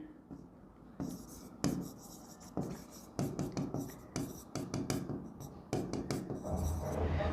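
A pen writes on paper during an accounting lesson, giving close, scratchy bursts of strokes with short pauses between words, fairly clear and without talking.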